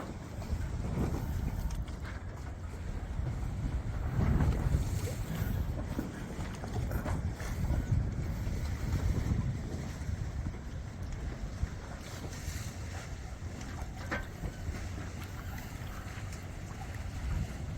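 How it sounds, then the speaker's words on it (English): A sailboat runs off Martinique with both sails out and no engine, steady wind noise buffeting the microphone over rushing water and hull wash, continuous and close, with no voices. "because we've sailed all the way with both sails out, we don't want to turn an engine on"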